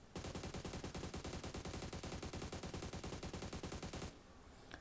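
Rapid automatic gunfire in the mobile battle royale game PUBG Mobile, a loud continuous burst of evenly spaced shots lasting about four seconds, then stopping abruptly to a quieter background hum.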